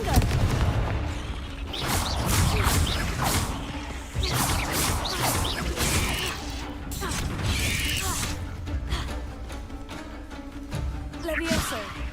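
Repeated fiery spell blasts from Confringo casting in Hogwarts Legacy, loud crashing booms and whooshes in dense succession over a rumbling battle mix with game music beneath.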